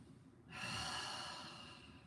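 A slow exhale through the mouth during a breathing exercise, one soft breathy rush that starts suddenly and fades gradually, close and quiet.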